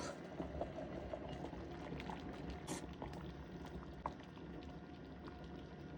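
Pea soup simmers in a pot on a home stove, a steady low bubbling with occasional small pops, close and faint, with no voices.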